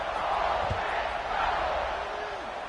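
Stadium crowd in a College Football 26 video game: a steady, dense roar of many voices holds at an even loud level throughout, with no clear speech rising above it.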